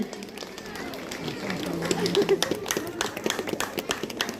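An audience at a school annual day and result declaration claps for a fourth-grade student who placed third, the scattered clapping building up under an announcer's voice and crowd chatter.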